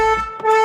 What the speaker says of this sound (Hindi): हॉर्न नई इलेंट्रा का ऐसे साउंड करता है